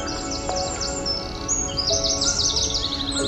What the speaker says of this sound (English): It's a cuckoo.